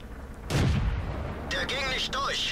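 Panther tank main cannon firing in World of Tanks, one sudden loud boom with a rumbling low tail, followed by warbling game effects while someone speaks.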